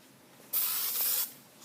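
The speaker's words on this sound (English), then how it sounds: "spray a little bit of adhesive on it," A short hissing burst of adhesive spray from an aerosol can onto fabric, close by, lasting under a second amid quiet.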